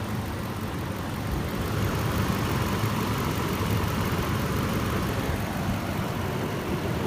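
A 2013 Nissan Titan pickup idles with a new battery fitted, giving a steady, close, even engine rumble with a broad hiss that holds for several seconds, with no voices.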